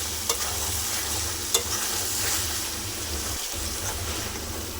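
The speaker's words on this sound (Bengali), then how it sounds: "কিছুক্ষণ এইভাবেই কষাতে থাকবো যতক্ষণ পারফেক্ট না হয়ে যাবে" Curry being stirred and fried in a pan, a steady close sizzle with a continuous low frying rumble and a couple of brief spoon scrapes, with no talk.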